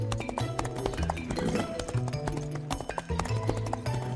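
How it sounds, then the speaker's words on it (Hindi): A gang of horses galloping, hooves clip-clopping in a rapid, steady rhythm close by, with a faint jingle of tack and some background music. "ऐसे शमशेर का गिरोह घोड़ों पर मुन्ना वालों के पास आए"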